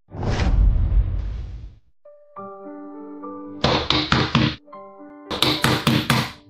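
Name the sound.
knocking on a door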